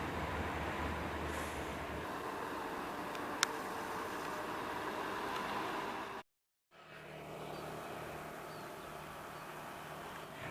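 A sugar cane railway locomotive rolls along a grassy track at a sugar mill, giving a faint, steady rumble and hiss with a brief gap partway through and no talk.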